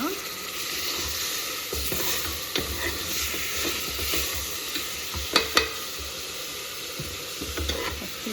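Chicken Ambur biryani ingredients with mint and coriander sizzle in a pot while a utensil stirs them, giving scattered scrapes and a few sharp metallic clacks over a constant frying hiss.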